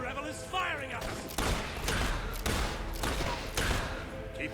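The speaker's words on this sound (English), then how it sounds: "Damn rebel is firing at us!" Rebel soldiers fire at the player in the video game Fable 3, a loud run of gunshot volleys and thumping impacts mixed with shouted voices.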